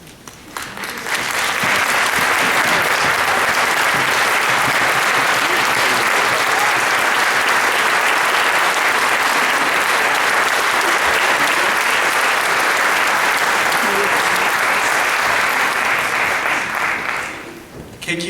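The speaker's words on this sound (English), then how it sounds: "if you could please rise, we want to honor you with a round of applause" A large audience at a panel discussion on the Vietnam War in San Jose applauds to honor armed service members. The clapping swells quickly into a loud, unbroken roar, holds steady for about fifteen seconds, then dies away abruptly.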